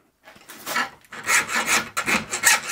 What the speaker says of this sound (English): you can hear how hard that is. The file's barely marking it.